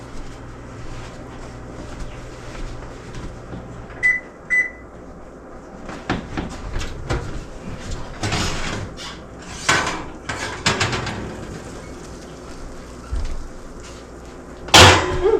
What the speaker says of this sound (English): I'll get it out of the oven.